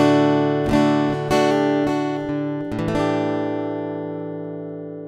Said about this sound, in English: And this is what the undersaddle pickup sounds like on the Ibanez.